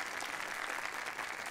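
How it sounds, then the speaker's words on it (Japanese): A steady burst of clapping from a crowd in the video game Yakuza 0, dense and even throughout, with no voices on top. "こちらのお客様にも拍手を。"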